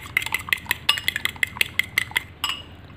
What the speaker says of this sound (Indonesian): Kemudian kuning telurnya ini kita kocok merata dulu teman-teman.